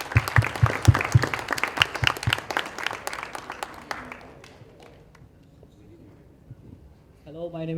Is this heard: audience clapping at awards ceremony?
yes